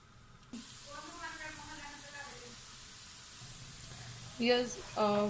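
Onions frying in oil in a pan give a steady broadband sizzle and hiss throughout, with a voice speaking over it in the middle and near the end.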